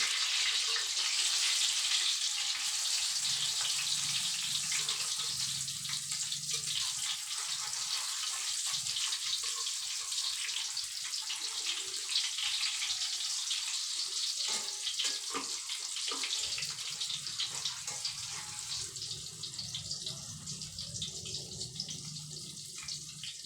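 Eggplant omelette (tortang talong) frying in hot oil gives a steady, close hiss and crackle throughout, with no talk over it.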